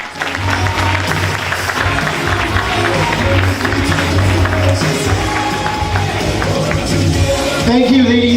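An audience applauding a Toastmaster speaker: loud, sustained clapping from a room full of people that stays steady from start to finish, with some voices mixed into the crowd noise.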